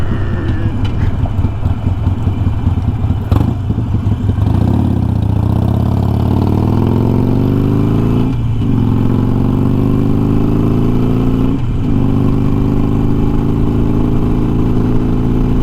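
A Harley-Davidson Sportster Iron 883 fitted with a Memphis Shades Road Warrior fairing cruises at about 60 mph, its V-twin rumbling loud and steady with wind roar, brief dips and shifts in pitch as the throttle eases.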